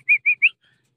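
Three quick bird-like chirps in a tight row, clear and fairly close, from a racing pigeon loft during final-lap clocking, then silence.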